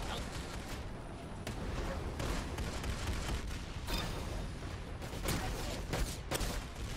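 A lightning cannon fires during a round of the video game Arsenal, dense crackling bursts and booms in rapid succession, loud and continuous.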